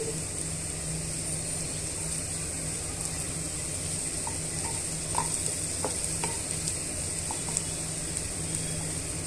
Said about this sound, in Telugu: స్టవ్ సిమ్లో పెట్టుకొని మనం వేయించుకోవాలి